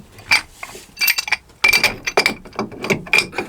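Wrench clicking and clinking on a packing gland nut aboard a Catalina Capri 26 sailboat, a close series of short irregular metallic ratchet ticks and taps in tight bursts.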